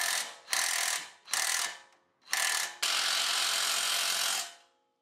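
A tool tightens a camber bolt on a GR Corolla strut in four close, loud bursts of ratcheting, the last one running steadily for about two seconds before stopping.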